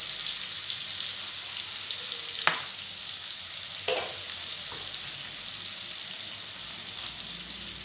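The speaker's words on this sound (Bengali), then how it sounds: "দিয়ে খুব ভালোভাবে লাল করে আলুগুলো ভেজে নেব।" Potatoes frying with turmeric powder in a pan, a steady close sizzle with a few brief scraping clicks of stirring, no voices.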